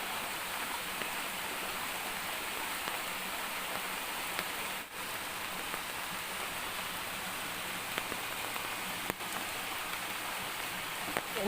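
Monsoon rain falls on a flooded area where a swollen stream carries coconuts along, heard as a soft, even hiss throughout, distant and faint, with no speech.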